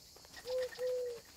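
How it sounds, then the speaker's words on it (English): A pigeon coos in the wildlife game Alba: A Wildlife Adventure, two soft tonal hoots in quick succession, the second longer, faint and isolated over a quiet outdoor ambience. "Actually, I think that's the sound of a fucking pigeon."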